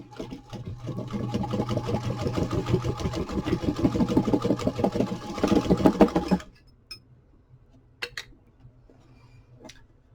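A sewing machine runs steadily as it stitches the hard covers of a junk journal, its rapid mechanical chatter lasting about six seconds before stopping abruptly, followed by a few faint clicks and handling sounds.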